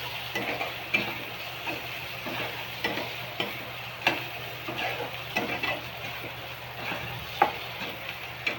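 Coriander and asafoetida sizzle in hot oil, a bright continuous frying hiss broken by repeated scraping and stirring strokes, close and fairly quiet.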